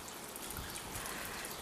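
Settled tap water poured from a bottle onto potted plants, a soft continuous trickle and splash close by, fairly quiet and steady with no talking.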